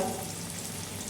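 Onion, curry leaves and mustard seeds sizzle in hot oil in a pan for a puffed-rice snack, a steady close hiss with faint crackles that carries on without a break and with no voices.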